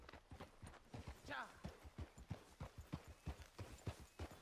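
Rhythmic clip-clop of trotting horse hooves in Red Dead Redemption 2, steady and close, with a voice talking over the top and a brief whinny-like sweep partway through.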